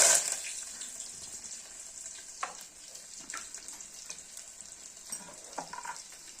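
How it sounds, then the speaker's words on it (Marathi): Village chicken tempering in a pan gives a faint, steady sizzle that is louder at the start and then settles into a quiet hiss, with occasional small clinks and splashes and no talking. "इकडे आता फोडणी देते"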